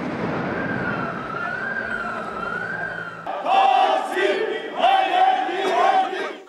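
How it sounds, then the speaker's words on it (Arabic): Wailing police car sirens sweep up and down while a crowd of protesters chants and shouts loudly over them, amid bangs of stun grenades and fireworks. "دوت أبواق سيارات الشرطة وفرقعت القنابل الضوئية وأصوات الألعاب النارية على خلفية هتافات المحتجين"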